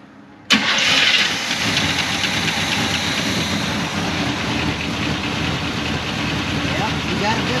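The engine of a 1984 Chevy C10 that has not run in 20 years cranks, fires up abruptly and settles into a loud, steady idle close by, with people talking over it.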